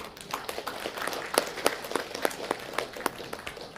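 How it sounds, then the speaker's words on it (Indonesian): Audience in a parliamentary hearing room applauding the minister, a steady patter of claps with sharper individual hits rising and falling over a few seconds, moderately close. "Pak Menteri, kita berikan aplaus dulu."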